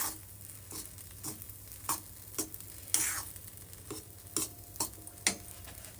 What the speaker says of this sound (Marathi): आणखीन पाच मिनटे याला आपण भाजून घेऊया छानपैकी